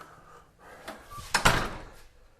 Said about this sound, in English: now we're going to walk in through the door here